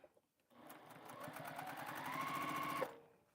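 A sewing machine stitches quilt pieces together in a steady, close whir lasting about two seconds, with a thin rising whine building toward the end before it stops.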